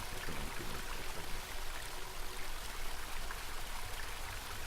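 A cold river in a dark game setting, flowing with a steady, even wash of rushing water, continuous and fairly close, with no voices over it.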